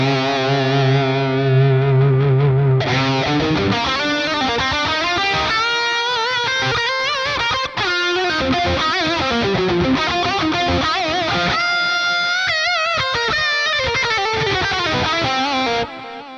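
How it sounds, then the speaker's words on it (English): Electric guitar through the Plini Archetype plugin with a dotted-eighth ping-pong delay, tape saturation and light feedback; a dense, continuous stream of picked notes and chords with repeats trailing behind, loud and alone. "So this is what it sounds like with delay on."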